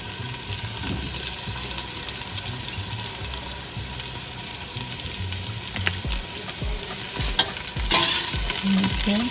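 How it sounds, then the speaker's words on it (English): Onions fry in coconut oil in a big pot with a loud, constant, close sizzle. Stirring scrapes and a few knocks of a spoon against the pot break through it, and no voices are heard. "I'm going to put them in the coconut oil."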